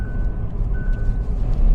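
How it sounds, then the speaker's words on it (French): Repeated short warning beeps from a Hyundai Inster's driver monitoring system, thin and steady over the low hum of the car interior. "vous entendez régulièrement un petit bip bip"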